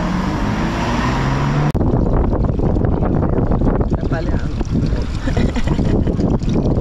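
Strong wind buffets the microphone outdoors on a hot day, a loud, continuous roar that goes on throughout with a brief dropout, while people talk underneath.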